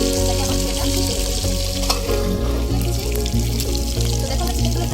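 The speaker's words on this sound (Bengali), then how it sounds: "তো দেখো আমার চিকেনগুলো খুব সুন্দরভাবে ভাজা হয়ে গেছে।" Chicken pieces for tandoori fry in a pan, giving a loud, steady, close sizzle that runs unbroken throughout with occasional stirring scrapes.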